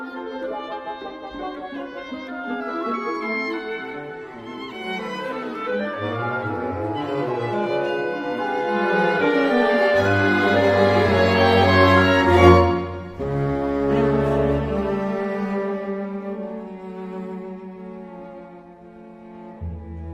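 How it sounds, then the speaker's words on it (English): A recording of Schoenberg's Chamber Symphony No. 1, scored for 15 instruments. Dense, overlapping orchestral lines build to a loud swell with a low, sustained bass, then thin out into quieter, shifting textures. "Arnold Schoenberg's Chamber Symphony No. 1. It's scored for 15 instruments and was premiered in 1907."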